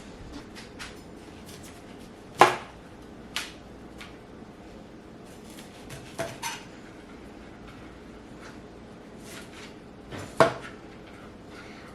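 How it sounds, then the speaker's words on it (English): A knife cuts through a head of broccoli on a board at home, with a few sharp sparse chops and knocks spread across a quiet room, no one speaking. "We are gonna cut some broccoli."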